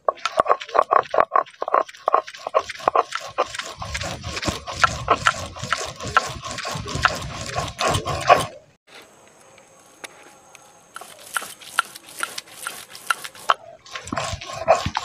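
Raw grated papaya ground without any water, likely in a mixer grinder, makes a loud rough churning with rapid rattling bursts, breaking off briefly before starting again in shorter pulses.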